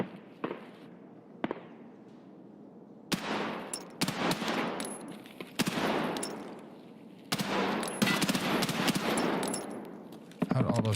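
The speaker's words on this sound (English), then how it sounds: "How'd all those shots miss?" Bursts of automatic gunfire in the video game Escape from Tarkov, several long rattling volleys separated by short pauses, loud and close, with a few sharper single shots early on.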